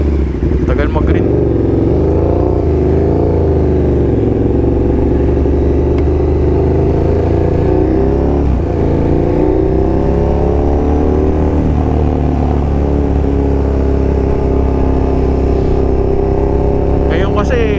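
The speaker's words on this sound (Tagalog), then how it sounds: "Ngayon kasi balik traffic na naman tayo" Busy road traffic with cars and motorcycles, a continuous rumble of engines idling and revving nearby with occasional clatter, while people talk throughout.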